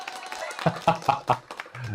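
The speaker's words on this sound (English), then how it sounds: "I just mistakenly bumped the applause button" Applause sound effect, set off by an accidental button press, plays as a short, close burst of several sharp claps lasting under two seconds, with no talk over it.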